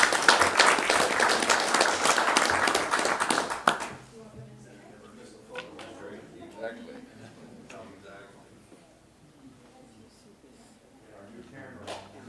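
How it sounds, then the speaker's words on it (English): Council meeting audience applauds business applicants: a few seconds of loud, dense clapping that stops abruptly, followed by quieter room sounds, scattered small taps and faint movement. "If we can just do another round of applause for all of our business applicants."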